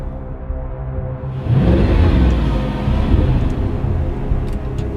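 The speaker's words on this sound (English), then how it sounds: "The engine hums gently," A car engine hums steadily, rising in loudness after a quieter start, then holding a low, even rumble close by; no voices over it.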